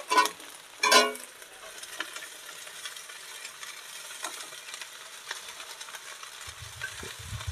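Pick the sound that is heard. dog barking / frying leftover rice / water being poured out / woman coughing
frying leftover rice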